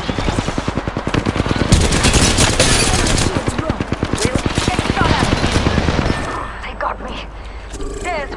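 Rapid automatic gunfire rattles almost without pause for about six seconds in a battle royale shooter, loud and close, with overlapping bursts before it cuts off and quieter game sounds follow.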